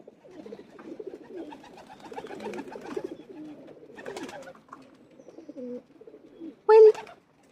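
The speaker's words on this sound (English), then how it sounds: "we've got our doves" Doves coo by a river in soft, repeated murmuring phrases, with one louder call near the end, in an otherwise quiet outdoor setting.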